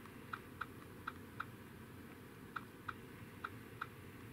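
Keys tapped on a keyboard while a custom name of up to 12 characters is entered for a set of smart headphones. About eight faint, sharp clicks come in two short, uneven bursts over a quiet background hiss.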